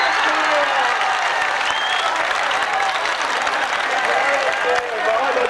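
A live audience bursts into sustained, dense applause after a Hindi comic poem recitation, steady loud clapping filling the room for several seconds without pause.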